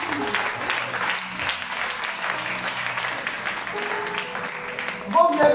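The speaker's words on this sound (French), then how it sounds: "Est-ce que tu peux acclamer Jésus?" A church congregation at a prophetic sermon breaks into sustained applause and cheering for Jesus, loud dense clapping with voices mixed in throughout, rising briefly near the end.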